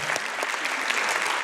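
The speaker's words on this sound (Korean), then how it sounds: "우리 아버님 박수 한번 주세요." Brief burst of dense clapping from a lecture audience rewarding a correct answer, fairly faint and continuous with no voices over it.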